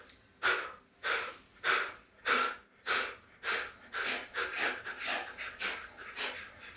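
Skull shining breath, a series of about a dozen sharp forceful exhalations driven by the diaphragm and abdomen, close and loud, first evenly spaced and then quickening into a faster rhythm.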